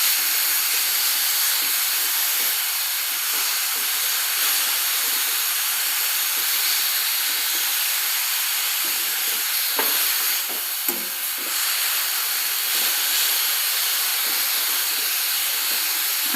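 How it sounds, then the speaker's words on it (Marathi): Grated beetroot sautéing in a pan for halwa gives a continuous, fairly loud hiss with soft, irregular stirring scrapes running through it and no one speaking. "इथे मी बीटला छान असं परतून घेते"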